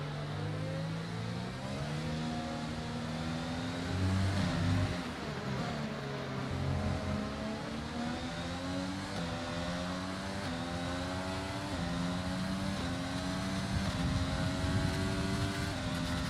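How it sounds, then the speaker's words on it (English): A large pack of racing cars in a racing video game, engines whining and revving together in layered rising and falling tones, a continuous moderately loud roar ahead of the player's car with no talk. "There's a huge group of cars in front of us here."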